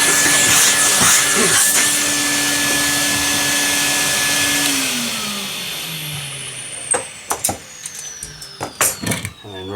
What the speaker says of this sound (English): hoover up or clean up all the dust.